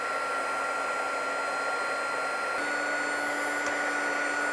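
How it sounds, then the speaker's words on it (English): A steady, loud blowing whir with a constant hum, a heat gun running continuously over an MDF mould, with a slight shift in pitch partway through. "So now we're going to take a heat gun."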